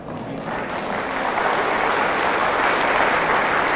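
An audience at a religious lecture event bursts into applause that swells over the first second and then holds as a thick, loud wash of many hands clapping, with no voices on top.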